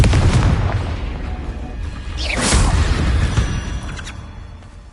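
In the video game Hogwarts Legacy, a Confringo blasting spell goes off with a loud, booming explosion that crackles and bursts. The rumble then rolls on and fades away, with no talk over it.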